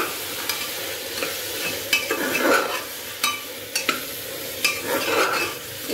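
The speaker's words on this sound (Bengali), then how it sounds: "এবার সয়াবিনটা দিয়ে একটু ভালো করে কিছুক্ষণ কষাতে হবে।" Soybean chunks being sautéed and stirred in a pan for veg pulao, with steady sizzling frying under repeated scraping strokes of a utensil against the pan, close and continuous, no talking.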